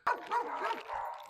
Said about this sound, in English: These are puppies. These are puppies.